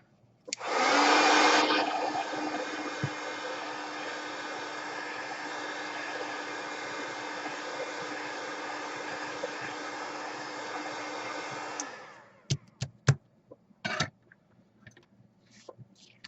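A heat tool roars steadily for about eleven seconds, drying ink on a stamped craft card, then cuts off, leaving a few sharp clicks and taps.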